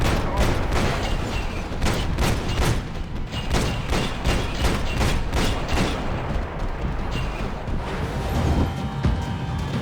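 Rapid bursts of gunfire crackle through a Max Payne 3 firefight, dense volleys of shots with sharp transients repeating throughout, loud and close, with someone shouting briefly in between.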